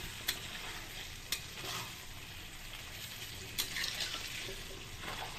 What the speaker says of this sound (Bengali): আবার একটু ভালো করে কষিয়ে নেব